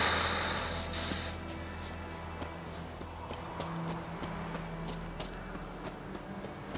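A horse in The Witcher 3 video game, heard as soft rhythmic hoof clip-clops over a low steady ambient hum, fairly quiet and continuous.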